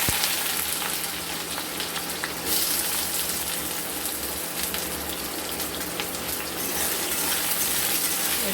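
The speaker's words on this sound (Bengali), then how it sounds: "পেঁয়াজটা একটু আমরা লাল লাল করে ভেজে নেব" Chopped onion frying in spiced oil for a capsicum chicken dish, a loud, steady, hissing sizzle up close with no talk.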